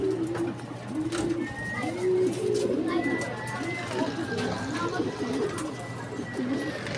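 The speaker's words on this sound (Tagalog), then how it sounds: "Blue bar white flight saka ibon si Palok" Racing pigeons coo repeatedly after a club training flight in Calamba, Laguna, with soft, close, rhythmic throaty calls over a steady low hum. A few faint chirps and background noise sit around them, and there is no clear talk.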